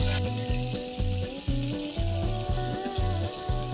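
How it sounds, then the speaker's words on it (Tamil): Tandoori chicken fries in a covered pan, giving a steady close sizzle with a regular, pulsing bubbling rhythm. "திருப்பி போட்டு ஃப்ரை பண்ணலாம்."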